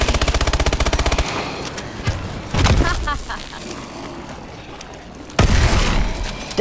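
Rapid automatic gunfire from a Call of Duty: Advanced Warfare match, a fast machine-gun burst at the start, then scattered shots and heavy blasts, with players talking over the action.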